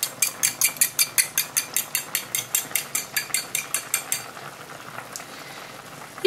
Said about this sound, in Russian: мы взбиваем наши яйца. Взбиваем не сильно, скорее, наверное, просто перемешиваем вот так вот.